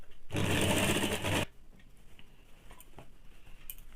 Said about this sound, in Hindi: अब मैं इसको सिल लेती हूँ।